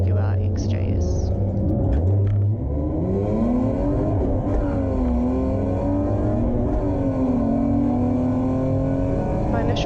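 Race cars, a BMW E36 and a Jaguar XJS, accelerate together from a rolling start at Hampton Downs, their engines droning loud and steady with rising pitch sweeps as gears change, close and continuous throughout.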